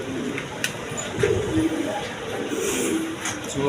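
Fancy pigeons of various breeds, including big Blackless Sherting birds with chicks, coo softly in a steady low murmur under a noisy, busy background for a few seconds.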